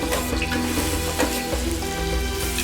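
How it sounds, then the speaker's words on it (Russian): Chopped onion sizzling in oil heated to around 210–220 degrees in a kazan, a loud continuous hiss and crackle with no talking. "Масло и лук встречаются с задорным шипением."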